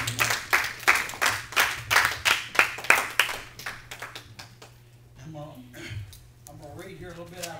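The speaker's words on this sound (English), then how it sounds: "Give the Lord a hand clap." A church congregation claps for the Lord in a steady rhythmic beat, loud regular hand claps repeating about three per second, then tapering off as the clapping fades and a voice speaks over the quiet.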